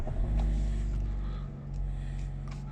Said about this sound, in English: We'll just start the car, dip the clutch, there's an engine stop-start button here.